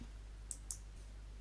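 Two quick, faint computer mouse clicks in close succession over a quiet room hum, with no talk.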